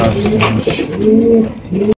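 Caged pigeons cooing at a pigeon seller's warehouse, loud, close, overlapping throaty coos rolling one after another and then cutting off abruptly.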